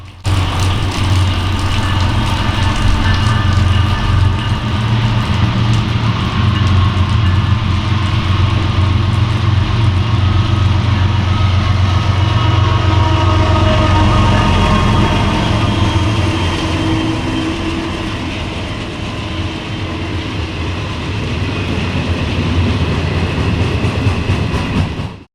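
A Norfolk Southern freight train, B08, led by a GE locomotive, rumbles past close by, loud and steady throughout with continuous wheel clatter and engine drone.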